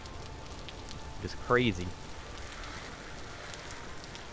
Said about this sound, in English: I don't think it ever stops raining here